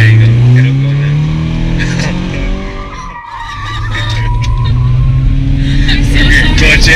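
Engine of a manual-transmission car revving and dipping as the clutch is worked during a driving lesson, a strong steady drone with rising harmonics that briefly drops away before building again, with people talking over it.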